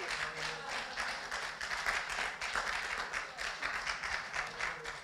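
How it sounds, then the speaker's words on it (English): A church congregation claps together during a Sunday service, a dense steady wash of hands sustained throughout, fairly close and moderately loud, with faint voices mixed underneath. "Let's give him a clap offering."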